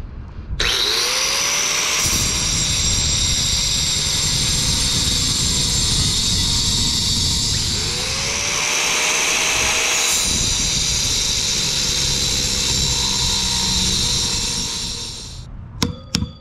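A handheld angle grinder fitted with a diamond metal-cutting wheel bites into a steel HVAC blower motor pulley, a loud, close, continuous high whine and grinding roar that dips in pitch under load and recovers twice before cutting off.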